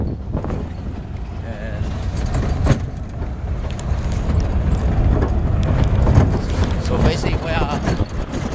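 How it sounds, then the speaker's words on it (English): Pickup truck driving on the Trans-Amazonian Highway in Brazil, heard from riding behind it: a loud steady road rumble with wind and rattling, while people talk over it. "We're sitting behind this pickup truck"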